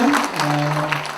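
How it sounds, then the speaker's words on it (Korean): Audience applause at a Justice Party 2019 joint campaign rally for deputy leader candidates in Incheon: a brief, steady wash of clapping with a faint tonal hum running underneath. "다시 한번 힘찬 박수 부탁드립니다"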